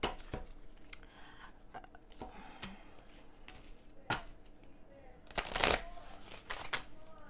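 Oracle cards are shuffled by hand in quick, crisp riffles and taps, with a louder flurry near the end. It is close and fairly quiet, with no talk over it.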